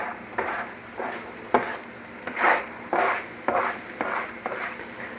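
Onions sweating in a pan for homemade Salisbury steak give a crackling sizzle broken by repeated rhythmic stirring strokes, about a dozen scraping swishes rising and falling close by.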